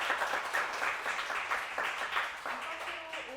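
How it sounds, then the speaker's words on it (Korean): Applause from the audience follows a science lecture given by a professor at a live online talk event, heard fairly faint and mixed with some voices as the clapping tapers toward the end. "좋은 강연을 해주신 최규영 교수님께 다시 한번 큰 박수 부탁드립니다."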